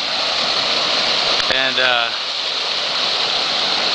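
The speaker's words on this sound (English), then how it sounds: "that's the creek that normally runs slyly through my property. It has now become a raging," A storm-flooded creek roars past like a raging river, a steady broadband rush of water filling the whole stretch, with a voice briefly speaking over it partway through.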